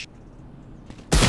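Gunfire in the Valorant shooter, a single loud abrupt burst cutting in near the end after a quiet stretch with a faint click.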